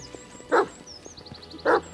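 A dog in Pathfinder: Kingmaker gives two short, sharp barks about a second apart, close and loud, over faint ambient game sounds and light chirps.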